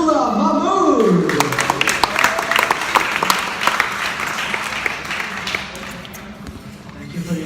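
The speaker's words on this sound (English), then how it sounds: "please help me in welcoming with a very healthy round of applause" An audience at a press conference gives a round of applause welcoming a company director to the stage, with dense clapping filling the clip and some tonal sound early on, mixed with voices and fading slightly toward the end.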